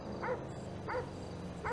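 A dog in Grand Theft Auto V barks three times at a steady, evenly spaced rhythm, the yips fairly close and moderately loud over a low background hum, with no talking.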